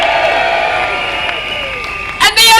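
A crowd at a national political demonstration in Birmingham cheers and shouts in a steady, loud roar that swells into a sharper burst of whoops near the end.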